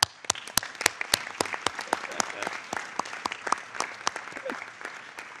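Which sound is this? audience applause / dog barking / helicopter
audience applause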